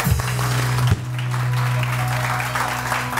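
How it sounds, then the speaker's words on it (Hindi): An audience applauds at a Monday-morning show, a steady wash of clapping that runs for the full stretch beneath a constant low hum, with faint voices mixed in. "जरा तालियां वालियां बजाएं।"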